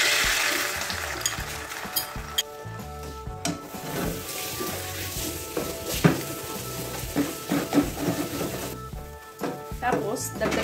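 An egg sizzles steadily in a pan while fried rice is cooked, with a spatula clacking and scraping in irregular bursts and a person talking over the cooking.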